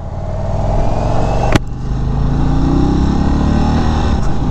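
A 2022 Indian Chief Bobber Dark Horse motorcycle is ridden, its engine a loud, continuous close-up rumble that swells as it accelerates, with a short sharp click partway through and no talking.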